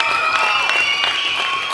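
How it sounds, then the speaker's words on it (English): Crowd at a country football preliminary final, Golden Square against Woorinen, with spectators applauding and cheering from a distance in a steady, diffuse wash, and no talk over it. "You can hear the crowd in the background"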